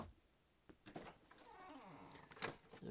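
A kitten in a room gives a close, drawn-out meow that rises and falls, followed by softer mewing sounds against quiet background noise.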